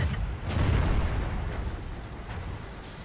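A Cromwell tank's cannon firing in the video game World of Tanks: a heavy, broad boom that rolls into a sustained low rumble and fades slowly, loud and close with no voice over it.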